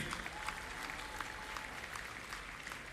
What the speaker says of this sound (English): Let's hear a resounding round of applause